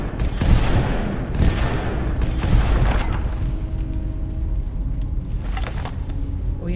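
Fireworks effect during a Skyrim Anniversary Edition stream: a dense crackling barrage of pops and booms over a rumbling wash, loud at first and thinning toward the end.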